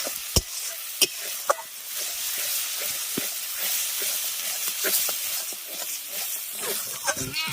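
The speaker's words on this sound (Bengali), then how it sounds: "কাজু বাদাম আর পোস্তটা দিয়ে হালকা করে একটু প্রথমে কষিয়ে নেবো" Cashew nuts and poppy seeds frying in a little oil in a wok, with a steady sizzle and repeated sharp scraping knocks of a spatula stirring throughout, and no voices.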